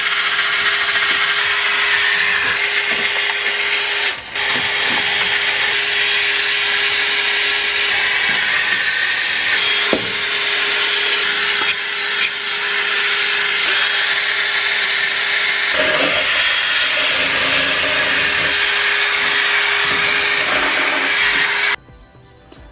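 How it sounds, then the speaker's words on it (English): A power drill cleaning the engine bay of a Ford F-150 whirs loudly and steadily for over twenty seconds with only brief dips, then cuts off abruptly at the end. "And then I start cleaning the engine bay with a drill."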